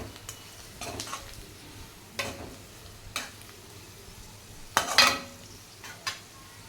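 Vegetables fry in a pan under a soft sizzle while a spoon stirs and scrapes, giving several distinct clanks and scrapes against the metal, one louder than the rest.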